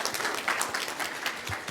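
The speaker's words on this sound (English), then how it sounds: "let's give Rajiv Prabhakar and India Saha a round of applause" Applause from a conference audience at a PyData Seattle talk on ML model observability, a dense steady patter of many hands clapping through the short stretch with no voices.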